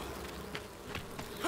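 A bee buzzes in the survival game Enshrouded, a steady insect drone lasting the whole moment with no one talking over it.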